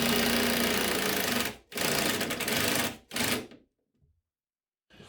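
A power drill or impact driver sinks screws through a wall cabinet into the studs, heard as three loud, buzzing bursts of about a second and a half each, separated by short gaps, before a drop to near silence.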